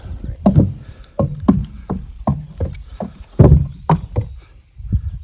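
Horse hooves clomping onto a wooden rocking bridge at a trail competition, a series of heavy, hollow knocks in an uneven walking rhythm, loud and close with no talk.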